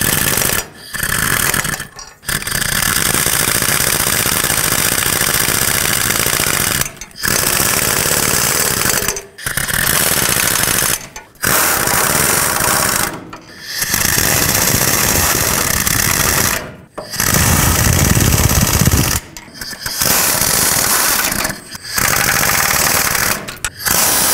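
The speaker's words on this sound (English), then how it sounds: "I'm just going to use my air gun and tighten them up." An air impact gun tightens bolts on the 5.4L engine of a 1997-2003 Ford F-150 during a head gasket job, running in loud, sustained rattling bursts separated by short pauses.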